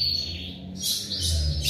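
A female blue grosbeak (azulão) gives a few short, high chirps close by, in quick bursts over a low background hum.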